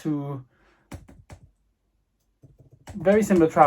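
A few soft, quick key clicks tapped on a keyboard for an M1 iPad Pro 12.9-inch in short bursts between brief spoken remarks, close and fairly quiet.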